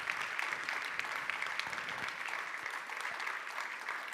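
Conference audience at the Euroconsumers Forum 2022 in Portugal applauds, a dense, even patter of many hands clapping steadily for several seconds.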